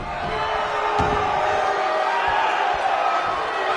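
In a wrestling video game, a dense, roaring arena crowd at a pay-per-view cheers continuously, with a few sharp thuds and slams punching through the steady wall of noise.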